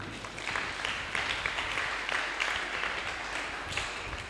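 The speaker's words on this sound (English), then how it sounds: "Clap for yourselves." Students at a technical institute's career fair day clap together, a steady broadband patter filling the room at moderate loudness with no voices over it.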